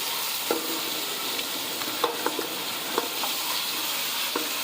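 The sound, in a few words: meat (mutton) frying and being stirred in a pot for nihari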